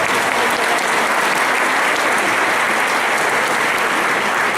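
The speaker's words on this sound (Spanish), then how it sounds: "Es un aplauso para Dios." A church congregation gives a sustained, loud round of applause for God during a pastor's sermon, a dense, even roar of clapping with no gaps.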